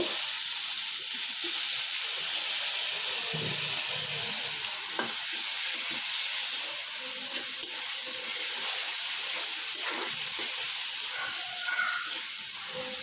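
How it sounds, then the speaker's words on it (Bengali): Spices sizzle and crackle steadily in a hot pan while being sautéed with a little water for potato, plantain and chicken curry, with scraping and stirring sounds throughout and no talking. "এটাকে একটু ভালো করে কষিয়ে নিব"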